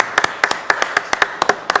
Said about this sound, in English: We just want to applaud you tonight